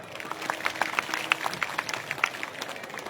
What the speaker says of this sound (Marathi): आणखी जोरदार